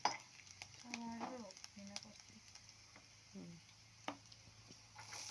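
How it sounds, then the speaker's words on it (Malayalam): Onions and tomatoes go into a hot pan and fry with a soft, steady sizzle, stirred now and then with light scrapes and taps, while a voice speaks quietly in the background. "ബാക്കി സവാളയും തക്കാളിയും ഇട്ട് കൊടുക്കണം"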